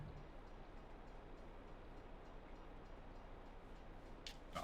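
A train rumbles past in Farming Simulator 22, a faint, steady low roar that stays even throughout, with brief higher clatter near the end.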